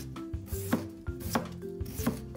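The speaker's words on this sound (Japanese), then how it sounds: "適当な大きさにカットしたら" Peeled potatoes cut into pieces with a knife on a cutting board, a steady series of close, crisp chopping thuds about every half second, with no talking.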